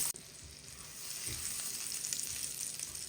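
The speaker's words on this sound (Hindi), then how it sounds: "पैन में 1 टेबलस्पून बटर डाल दें। अब बटर को मेल्ट होने दें।" A tablespoon of butter melting in a frying pan, a close, steady fizzing sizzle that starts with a small clatter and swells a little louder and denser after the first second, with no talking.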